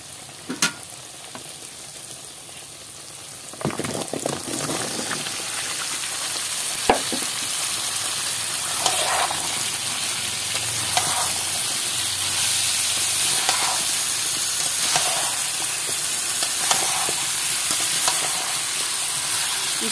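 Raw jackfruit pieces fry in a spiced masala in a pan, making a steady, loud sizzle and hiss with occasional stirring scrapes and bursts of spatter throughout.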